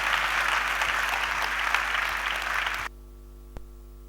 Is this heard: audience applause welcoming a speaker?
yes